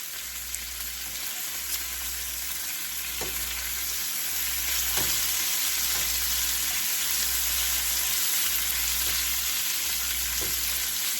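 Bacon and jalapeno fry together in a pan, giving a steady crackling sizzle throughout with a few louder pops, a low hum underneath, and no talking.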